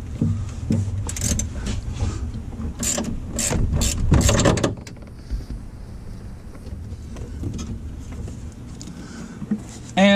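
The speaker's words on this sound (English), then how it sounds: "take a 15 millimeter wrench. It does not have to be a fancy wrench like this. And there's a nut on this side that needs to come out." A 15 millimeter ratchet wrench backs a nut off on a Jeep TJ tilt steering column, giving a rapid run of close metallic clicks for several seconds before quieter handling noises follow.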